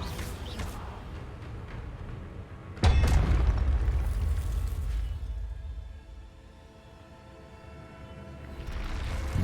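A sudden deep whooshing boom as an Incendio fire spell is cast in a video game, followed by a sustained rumbling roar that fades then swells again, with background game ambience.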